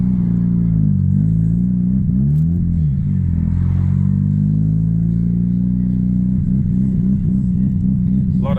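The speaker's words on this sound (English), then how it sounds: "A lot of traffic." Steady car engine rumble from inside a vehicle crawling through heavy traffic on the way to a major car and bike event at Dreamworld, with occasional revving swells throughout.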